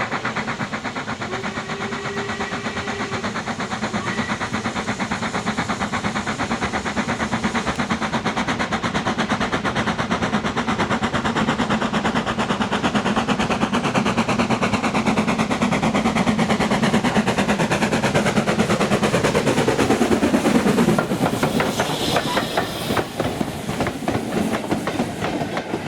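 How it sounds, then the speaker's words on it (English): An 8F steam locomotive hauling a very long freight train with a Class 24 diesel in tow and a Jinty tank engine banking at the rear, on the East Lancashire Railway: a steady, loud rumble of wheels and exhaust that swells as the train passes close by. "Here is the 8F, towing the Class 24 and banked by the Jinty."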